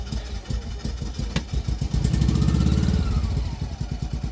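A small Isetta microcar engine cranks close by, turning over in a fast, rhythmic string of chugging pulses that swell briefly without settling into a steady run.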